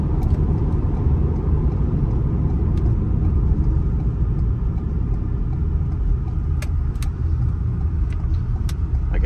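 A 2020 Ford Transit van driving on the road, heard from inside as a steady loud engine and road rumble with whirring tire noise and a few faint clicks, continuous and without talk.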